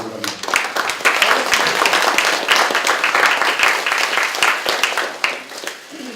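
A crowd at a Korean party ceremony celebrating the direct hiring of KEPCO KPS high-voltage transmission tower workers claps loudly and continuously, a close, crisp burst of many hands that eases off near the end.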